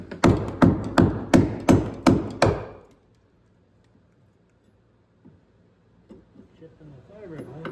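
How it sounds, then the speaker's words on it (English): A wonder bar strikes and chips at a fiberglass boat hull in a run of about seven sharp, evenly spaced knocks. Near silence follows, then faint shuffling and movement. "Chipping the fiberglass."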